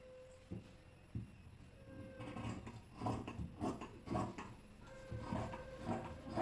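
Scissors cut through blouse fabric with a run of crisp, rhythmic snips and metallic clicks, close and fairly quiet, with a faint steady hum behind.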